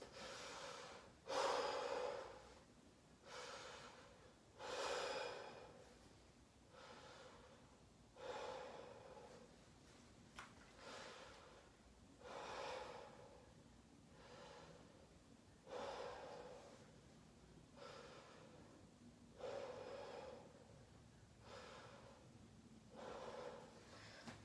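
A patient breathes deeply and slowly while the lungs are auscultated during a physical exam, about ten steady in-and-out cycles, close and soft, with no talking.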